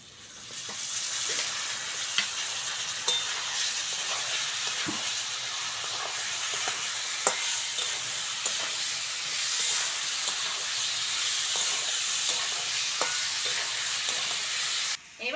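Thankuni leaves frying in a pan for a Bengali fish curry, a continuous bright sizzle with scattered scrapes and clicks of stirring throughout, close and steady with no talk.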